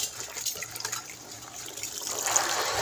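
Faint running water from a tap while colocasia (arbi) leaves are washed, a soft continuous trickle and splash that swells slightly toward the end, with no talk.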